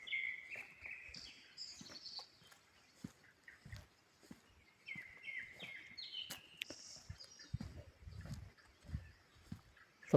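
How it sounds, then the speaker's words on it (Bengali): A few birds give short chirps and trills in a quiet forest near Baegya Natural Recreation Forest, South Korea, heard faintly and intermittently over soft footsteps and rustling. "যে পরিমাণ গাছপালা অনুযায়ী পাখির আওয়াজটা খুবই কম। দুই একটা পাখি।"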